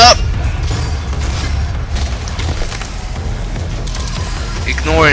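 Deep rumbling booms and blasts from Doom, crackling and rolling under layered game noise, loud and dense, with talking mixed in.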